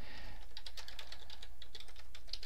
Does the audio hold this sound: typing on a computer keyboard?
yes